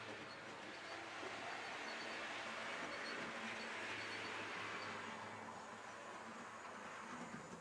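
A train rolls past an outdoor spot over about eight seconds as a steady, broad rumble and hiss at an even, fairly loud level, with no talk.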